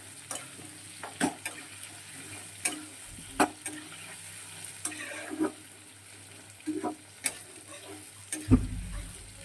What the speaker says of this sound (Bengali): এটা একটু ভালো করে ভাজা ভাজা হয়ে গেল, লাল লাল করে ভাজা হবে।